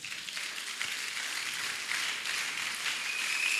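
Congregation applauding together in a church during a sermon, a steady wash of clapping that carries on without a break from start to finish at moderate distance.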